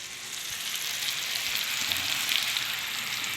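Garlic, onion and tomato sauté in a hot pan with a loud, even sizzle that hisses without a break from start to finish, heard up close and alone.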